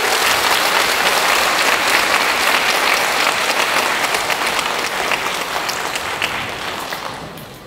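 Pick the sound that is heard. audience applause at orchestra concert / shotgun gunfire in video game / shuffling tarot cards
audience applause at orchestra concert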